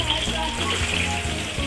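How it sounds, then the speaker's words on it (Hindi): Fish frying in hot oil in a pan, giving a steady crackling sizzle that runs throughout, with faint voices mixed in underneath. "सबसे पहले मछली फ्राई करेंगे"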